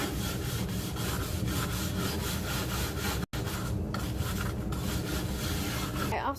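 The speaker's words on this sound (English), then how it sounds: "So all I do is use this and scrape the sides to get the rest of the stain on." Hand scraper dragged along the sides of an old wooden dresser to lift off stain and stripper, rhythmic rasping strokes repeated steadily at close range, with one brief break midway.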